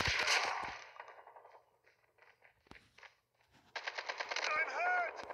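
Bursts of rapid gunfire from a Call of Duty match rattle in short loud volleys at the start and end, with quieter footsteps and faint game sounds between them and a brief voice near the close.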